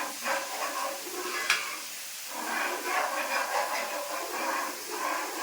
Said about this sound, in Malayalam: അപ്പം നമ്മൾ ഇങ്ങനെ കിണ്ടി കൊടുക്കുകയാണ്